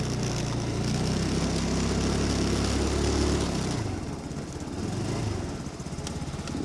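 A Chinese Mustang scooter engine running while ridden in snowy conditions, a steady buzzing drone close by that drops and roughens partway through, with no talking.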